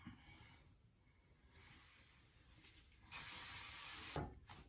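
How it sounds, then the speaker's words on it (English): A medium-hold hairspray with a little shine is sprayed onto hair in one loud, steady hiss of about a second, close to the mic, with a short puff just after and quiet room noise before. "That's because I'm using a medium hold spray with a little bit of shine"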